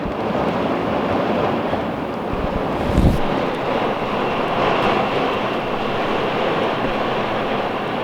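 Very big raindrops drum on the roof of a tiny house during a drought-breaking rain, a dense, even hiss-like patter close and fairly loud, running without pause with one brief louder knock partway through.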